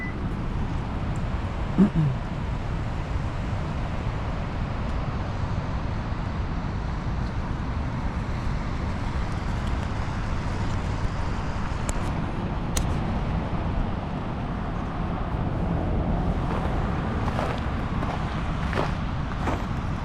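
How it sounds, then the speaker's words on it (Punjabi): Steady, broad rush of flowing water at Niagara Falls in snowy surroundings runs unbroken throughout, with a few faint knocks and taps over the constant roar. "ਇੱਥੇ ਤੁਹਾਨੂੰ ਪਾਣੀ ਦੀ ਚੱਲਦੀ ਦੀ ਆਵਾਜ਼ ਵੀ ਸੁਣੂਗੀ"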